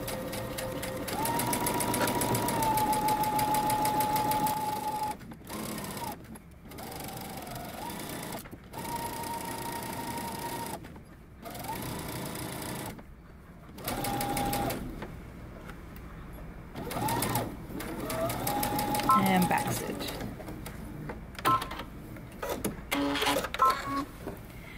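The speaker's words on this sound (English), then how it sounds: "I'm going to backstitch and then start sewing around" A sewing machine stitches around a pocket for a jumper with a 5/8-inch seam allowance and a backstitch, its rapid mechanical whir running in repeated bursts separated by short pauses, close and clear.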